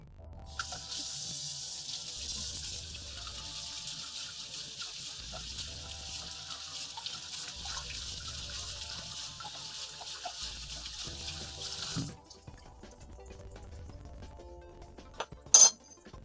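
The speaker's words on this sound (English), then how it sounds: "I'm going to rinse my beans off." Canned red beans are rinsed in a strainer under a running kitchen tap, giving a steady hiss of flowing water for about twelve seconds. Then the tap stops and a few quiet clinks follow, with a sharper knock near the end.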